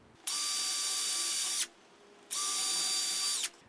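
A cordless power drill whines at steady high speed driving screws into lumber, two sustained runs of about a second and a half each separated by a short pause, close and loud with no talking.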